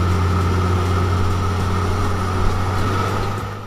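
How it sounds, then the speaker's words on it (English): A motor grader's engine runs steadily with a low droning hum and constant tonal bands, fairly loud and unchanging throughout, with no voices. "Motor grader, a machine used to adjust the slope of the ground by moving earth from higher to lower positions or vice versa."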